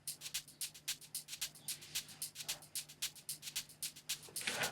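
Shakers rattle in a quick steady groove, each hiss echoed by bouncing ping-pong delay repeats, soft and alone against a low sustained hum, in an Afro house production.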